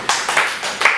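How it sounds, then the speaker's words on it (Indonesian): Applause from a classroom audience during a physics micro-teaching lesson on Newton's third law, a brief burst of clapping that swells in several uneven waves over about a second. "Kasih aplaus dulu."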